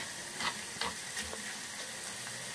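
Garlic frying slowly over low heat in a pan for a quick raw mango pickle, a steady soft sizzle with a few brief stirring scrapes near the start, alone without voices.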